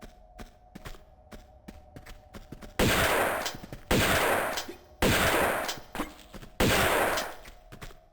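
Four loud, booming shotgun blasts from Tomb Raider II, each with a long decaying tail, follow a stretch of quieter clicks and a steady background hum, with no talking.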